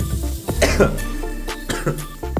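Someone coughs repeatedly in short harsh bursts from chili fumes, close by, with faint kitchen clatter in the background.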